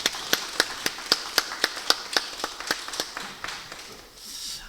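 A church congregation claps in a steady unison rhythm, sharp regular claps at about three per second that fade near the end, with no talking.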